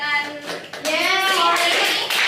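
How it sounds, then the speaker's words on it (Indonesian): Audience applause at a discussion session, a short burst of clapping from a group that runs under and alongside voices, with a voice audible in the mix. "sekali lagi kita beri tepuk tangan buat kalian semua yang sudah menyelesaikan"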